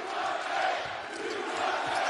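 Basketball arena crowd roaring during an Arizona versus Florida Atlantic college game, a sustained broad wash of cheering and shouting, fairly distant and even throughout.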